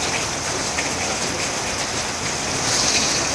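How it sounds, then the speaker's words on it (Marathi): Heavy rain falls outside in a dark evening downpour, a dense, steady roaring hiss that fills the whole stretch without a break. "इतका पाऊस पडतोय बाहेर की अंधार झालाय"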